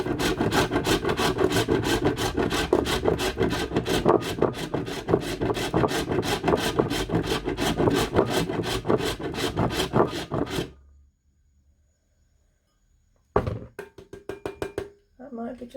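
A block of cocoa butter is rubbed fast against a hand grater, producing loud rhythmic rasping strokes for about ten seconds, then silence and a few brief scraping bursts near the end.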